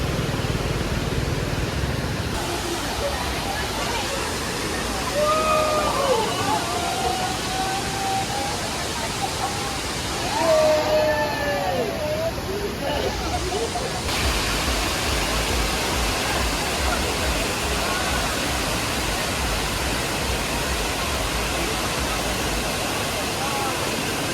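A waterfall beside the forest road from Valparai to Athirapally makes a steady, broad rushing roar throughout, with brief voices faintly over it partway through.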